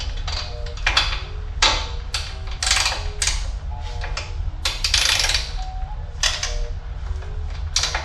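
A pass-through socket wrench works on a Jeep Grand Cherokee with bursts of clicking ratchet strokes and metallic taps in an uneven rhythm, close by over a low steady background rumble.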